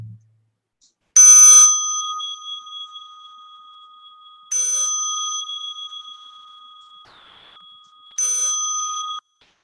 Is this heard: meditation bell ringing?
yes